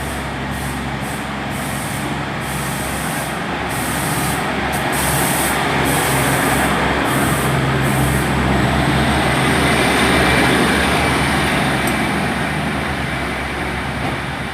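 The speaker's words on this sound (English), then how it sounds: "departing out now is 15232 with the service to Paignton from Exmouth" Train 15232, an Exmouth to Paignton service, pulls out of Exeter St Davids with a loud, steady engine roar and hiss close by, plus brief repeated high squeals early on, and no talk.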